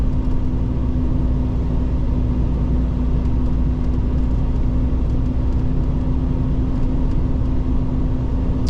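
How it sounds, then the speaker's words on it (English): A tri-drive heavy haul truck pulling a scissor neck trailer rumbles past on a snowy winter road, a steady loud low engine drone with constant road noise throughout, no voices. "heavy haul guy on the other side, the tri-drive truck with a scissor neck trailer"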